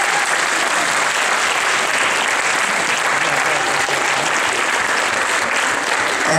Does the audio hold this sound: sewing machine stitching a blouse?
no